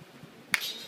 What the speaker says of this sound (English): And then clap my hands twice.